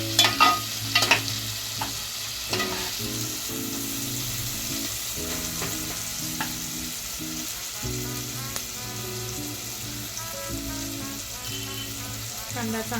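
Finely diced onion sautés in a pan for bottle gourd sabzi, a steady close sizzle with repeated clinks and scrapes of stirring, a few sharper knocks at the start.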